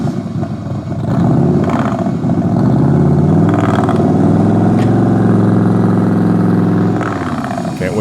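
A loud car pulls up close, its engine swelling into a heavy, rumbling drone with rattling clatter that holds for several seconds before easing off near the end.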